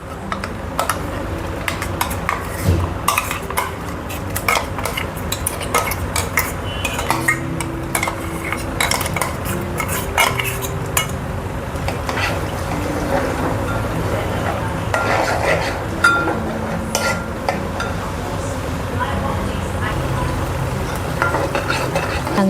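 Masala spices are added and stirred into hot oil in a pan while cooking misal, with steady scraping, clinking of a spoon against metal and a faint sizzle running throughout.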